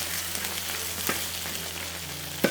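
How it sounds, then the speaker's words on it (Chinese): Blanched pork ribs spread out in a wok with sliced ginger, sizzling and frying steadily up close, with a sharp clatter near the end and no voices. "来，我们把这个排骨啊给它摊开来，给它稍微的煎一下哈。"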